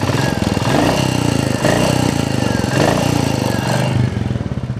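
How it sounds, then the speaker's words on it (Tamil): A car engine runs close by with a loud, steady, throbbing rumble that pulses slightly every second or so, no voices present. "இன்ஜின் சவுண்டை கேளுங்க."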